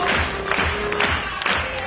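An audience at a KVN comedy show claps for the sound engineer, a steady dense patter of applause with soft thumps, heard close and loud throughout.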